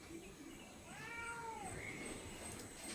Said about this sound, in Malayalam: പക്ഷേ എൻ്റെ വീട്ടിലെ പൂച്ച ഇപ്പം കാറിക്കൊണ്ടിരിക്കുക.